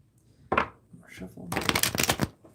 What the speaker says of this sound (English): So let me shuffle these cards here.